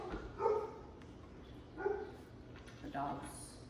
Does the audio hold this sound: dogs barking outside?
yes